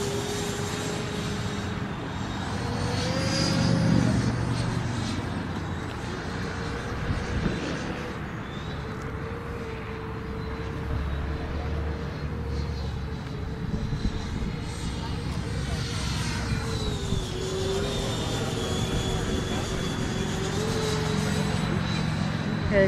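Electric ducted fan whine of a Freewing MiG-29 RC jet making a gear-down pass at a Memorial weekend flight, a steady droning tone that shifts slightly in pitch, with people talking throughout.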